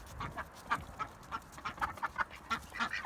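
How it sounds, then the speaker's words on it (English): Backyard ducks quack in a lively, irregular string of short nasal calls, close by and moderately loud over faint outdoor noise. "Ducks being frisky."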